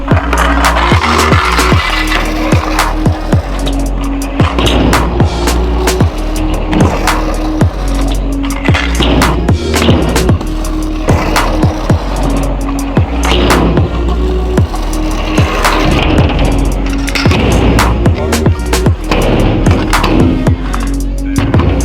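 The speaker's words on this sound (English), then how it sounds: "I'm gonna go ahead and hit this embankment a few times." Hard scooter wheels roll and rattle over a rough concrete embankment close by, with repeated sharp clacks and thuds from landings, loud and continuous throughout.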